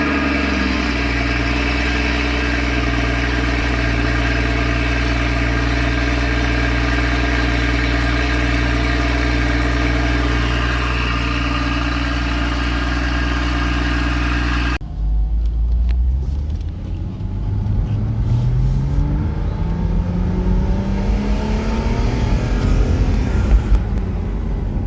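A manual Porsche Boxster 981 engine idles with a steady low rumble, then the tone shifts as the revs rise and fall, running loud and close throughout without talk.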